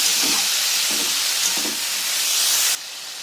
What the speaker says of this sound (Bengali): এবার ভালো করে নাড়তে থাকবো এইভাবে আপনারা দু মিনিট ভেজে নেবেন